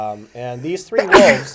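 A single sharp sneeze breaks into a spoken conservation-trust update about travelling wolf ambassadors, coming right after a voice and briefly overlapping it.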